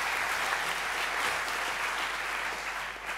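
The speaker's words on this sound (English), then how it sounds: "Let's give a round of applause for our first speaker." A conference audience at EuroPython 2019 lightning talks applauds for the first speaker, steady dense clapping filling the whole stretch and easing slightly toward the end.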